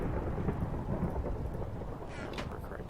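Steady rain and a rumbling thunderstorm in Minecraft Better Than Wolves, a continuous loud wash of rainfall with deep thunder underneath, no voices.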